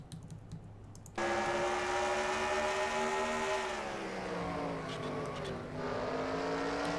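Onboard view from a race car in a racing video game at Toledo, its engine roaring loud and close after a quiet start, holding a steady high drone and then easing down in pitch as it lifts.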